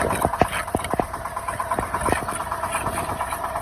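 A steady tractor engine drones throughout with faint periodic knocks while pulling a plough during spring ploughing, heard up close and continuous without any talking.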